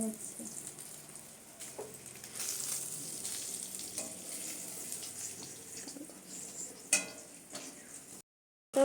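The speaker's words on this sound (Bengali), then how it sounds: "পটল ভাজা হচ্ছে।" Pointed gourd (potol) frying in a pan, a steady close sizzle running throughout with occasional clinks and stirring, no talk, and a brief louder bump near the end.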